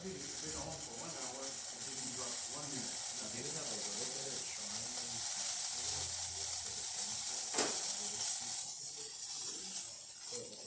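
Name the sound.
Gaggia Accademia espresso machine steam wand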